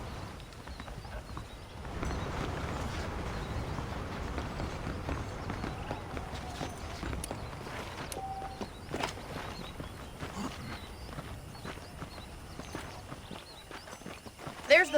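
Horse hooves clip-clopping at a steady walking pace in the Red Dead Redemption video game, continuous and moderately close under a voice talking, with faint ambient game sounds.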